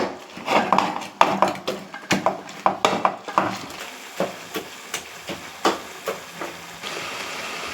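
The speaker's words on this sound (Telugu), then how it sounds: "ఇప్పుడు మనం ఈ ముద్దకంతో స్మాష్ చేసుకుందాం" A wooden masher pounds cooked gongura leaves in a pot, a string of sharp, irregular knocks and squelches, loud and close, with no talking.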